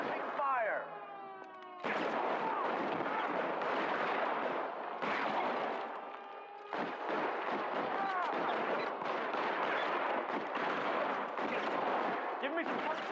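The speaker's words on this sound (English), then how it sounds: "I need another gun over here, please. Suppressing fire." Suppressing gunfire in a video game rattles in dense, continuous bursts close up, with brief pauses before it resumes, layered over game effects and chatter.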